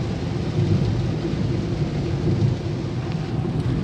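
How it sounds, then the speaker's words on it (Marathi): Heavy rain pours down steadily during a road journey to Mahur, in a dense, continuous roar, with a low rumble underneath and no voices. "अखंड पाऊस आहे सर्वदूर असा पाऊस पसरलेला आहे"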